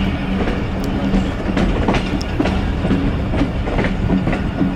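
The 130DN Thal Express passenger train pulls away from the small Khatkabad station, heard from on board with a steady loud rumble and rhythmic wheel clicks over the rails, without voices.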